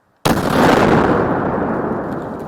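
A single loud rock-blasting explosion, set off to widen a mountain road, bursts suddenly out of silence and then rumbles on with a long, heavy roar of debris and echo.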